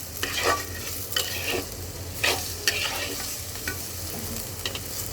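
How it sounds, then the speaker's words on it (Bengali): Onion and garlic frying in a pan for a prawn and water spinach dish, a steady close sizzle broken by several louder scraping stirs of a spatula, no talking. "চলো পেঁয়াজ রসুন সুন্দর করে একটু ভেজে নেই"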